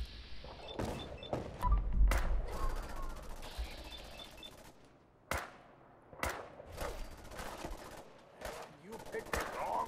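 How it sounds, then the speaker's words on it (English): Cannons aboard the U.S.S. Constitution fire in the video game Fallout 4, a series of sharp, booming blasts at uneven intervals over steady battle noise, with speech heard at times between the shots. "The cannons are ready. Fire at will."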